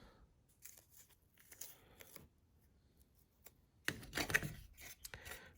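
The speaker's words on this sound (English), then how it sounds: "So let's take the tape off of here." Tape peeling away from the chassis of a 1964 Dodge 330 pro street car: quiet, scattered ripping and rubbing strokes, with a louder, denser tearing burst near the end.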